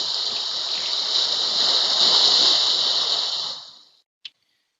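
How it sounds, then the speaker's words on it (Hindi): A broad rushing wash of ocean waves swells and then fades away, followed by a single short click. "जो कि मेरे पास ये लहरों की आवाज़ है।"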